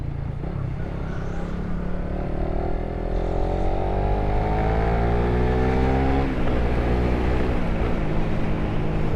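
Close, loud engine of a fuel-injected Suzuki Raider motorcycle running steadily. It holds a smooth rising whine that climbs in pitch, drops briefly and builds again, with no voices over it.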